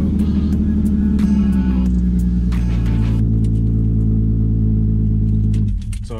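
A BMW E46 engine idles rich and loud just after starting, a steady low rumble with a slightly uneven, lumpy tone, then it drops away abruptly near the end.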